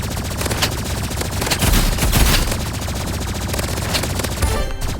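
Dense, steady video game gunfire with shotgun blasts in a fast shooter against energy pistols, loud and continuous for the whole stretch with heavier bursts in the middle, no talk over it.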